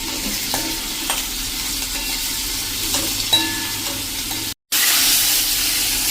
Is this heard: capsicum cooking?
yes